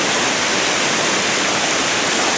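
A class 5/6 river rapid surges and churns, its water slamming against rock walls. The roar is loud and unbroken, with no voices over it.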